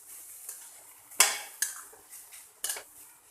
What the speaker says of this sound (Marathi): आपल्याला हा पूर्ण किस हा तुपावरतीच परतून घ्यायचा आहे